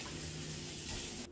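Water for homemade bread dough runs in a steady, close gush into a bowl, then cuts off abruptly near the end, with no talking.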